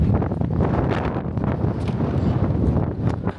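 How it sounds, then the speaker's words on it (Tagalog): Strong wind in Daegu, South Korea, in near-freezing weather roaring against the microphone, a continuous heavy low rumble with gusty bursts throughout. "Ang lakas ng hangin."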